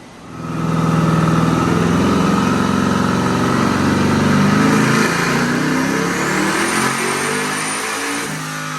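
A Whipple-supercharged LS7 airboat engine revs hard on a dyno, a loud sustained roar climbing steadily and holding high RPM for several seconds before easing slightly, with no talking.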